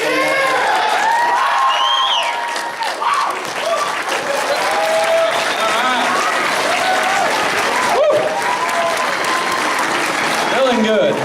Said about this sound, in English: A round of applause.